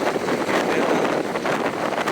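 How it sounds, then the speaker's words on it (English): Loud, continuous wind roaring and gusting against the microphone at the UK's most southerly point, a dense low rush with no speech. "Can you hear the wind?"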